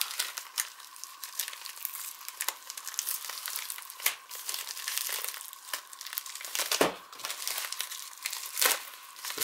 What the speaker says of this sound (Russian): если начнешь рвать, скотч-то прочный, можно повредить посылочку